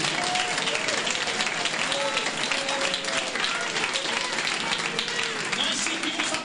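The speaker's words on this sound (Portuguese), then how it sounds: "Palmas para Jesus." A church congregation applauds together, with dense, steady clapping and a crowd murmur that continues without a break, loud and close, with a voice heard faintly within it.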